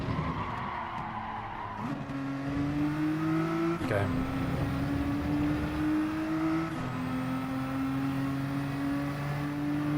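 A car in Gran Turismo 7 drives on the Yas Marina rallycross track, its engine droning steadily and stepping up through gear changes, with tire noise and a voice talking over it.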